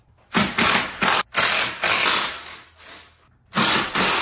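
A hand ratchet loosens bolts from the grille of a 2021–2024 Ford truck, clicking in quick bursts of strokes with short pauses between them. The sound is close and fairly quiet, with no talk.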